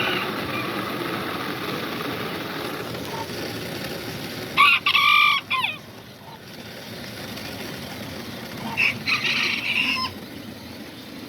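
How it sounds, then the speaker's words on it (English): Azteca rooster crowing twice in short bright bursts, with hens clucking faintly around it, set against a steady outdoor background hum. "You can see the rooster over there just hanging out."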